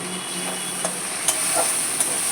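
Water hits spiced chicken masala frying in a pan, a loud steady sizzle and hiss with a few sharp crackles and stirring sounds.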